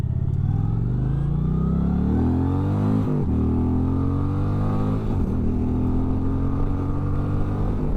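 An Indian Chieftain 112 motorcycle engine pulls hard and close up, a loud, deep throbbing that climbs in pitch through the gears, with two brief dips at the shifts before the climb resumes.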